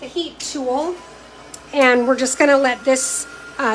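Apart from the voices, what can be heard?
No everyday noises stand out.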